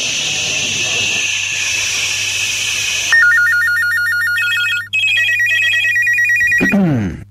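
A mobile phone rings loudly in electronic melodic bursts, then cuts off abruptly near the end, after a stretch of hissy background noise.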